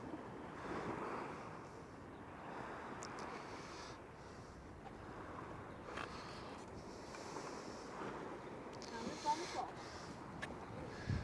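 Sea waves wash onto the shore at North Wall in Cleethorpes, a soft, steady surf mixed with wind buffeting the microphone, fairly quiet and unbroken by talk.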